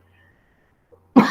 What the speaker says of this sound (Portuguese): eu tô o dia inteiro com uma tosse que vem, mas não vem